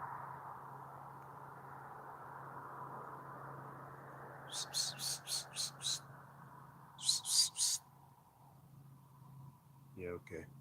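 Osprey giving series of short, high, sharp chirping calls in two bursts near a lakeside nest, fairly faint over a low steady hum and background noise.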